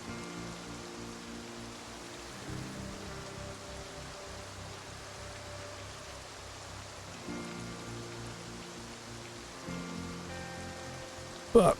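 Rain in the video game Project Zomboid falls as a soft, steady wash of noise, faint and continuous, with a low hum running beneath it.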